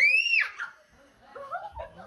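A person screams loudly at Halloween in a single sharp, high scream that slides down, followed by faint laughter and brief voices nearby.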